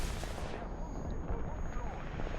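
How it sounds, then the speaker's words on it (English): Bombs bursting in a War Thunder tank battle, heard as a dense, continuous roar of rumbling blasts with no gaps, with a Panzer III E in the thick of it. "Those are bombs."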